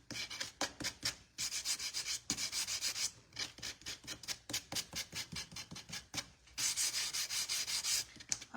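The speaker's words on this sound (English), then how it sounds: "I'm gonna use these two sanders, and I'm going to start sanding on the edge, removing some of the black paint." Two sanders work along a wooden edge to strip black paint, giving close, rhythmic rasping strokes in quick bursts with short pauses between them.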